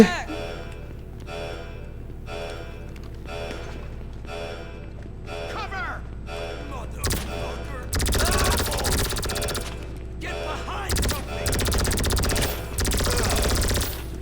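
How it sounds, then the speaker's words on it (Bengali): Rapid bursts of gunfire from a laser gun in GTA V, sharp repeated volleys growing louder and denser in the second half, with game music and effects underneath. "আরে লেজারালা বন্দুক বাইর করছি চলো দেখি"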